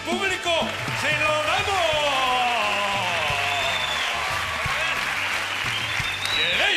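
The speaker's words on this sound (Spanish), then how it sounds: "no ha recibido el caluroso aplauso del público" A circus audience claps steadily and loudly in a big ensemble of applause, with a few cheers and voices woven through and music underneath.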